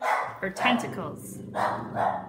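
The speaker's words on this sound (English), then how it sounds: "I'm sorry about my barking dogs." Pet dogs bark indoors during a home craft lesson, with a few sharp, close barks in two bursts mixed in with someone talking.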